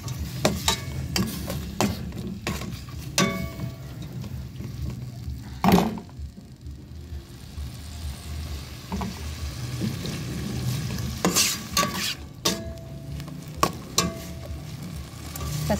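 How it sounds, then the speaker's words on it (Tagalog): Bamboo shoots (dabong) sauté in a pan for a Filipino vegetable dish, giving a steady close sizzle broken by repeated scrapes and clacks of a utensil stirring against the pan. "Igisa natin sila, no? Igisa natin konti."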